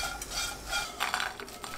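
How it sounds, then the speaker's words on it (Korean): Anchovies stir-fried in a hot pan over medium heat, giving a short burst of close rustling, scraping and light sizzling as they are tossed. "팬이 달궈지면 멸치 넣고 중불로 1분 볶아주세요"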